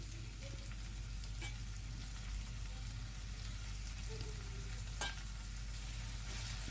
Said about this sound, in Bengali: তো এখন আলুটা ভেজে নিচ্ছি